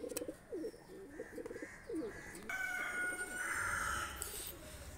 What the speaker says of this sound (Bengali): দুটা কবুতর ছেড়ে দেখাচ্ছি